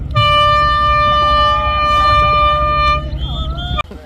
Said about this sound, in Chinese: 鸣笛声响起